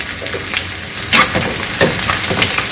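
Red chillies hit hot oil with softened onions in a pan, bursting into a loud close sizzle with bright crackling spurts, for chutney served with idli and dosa.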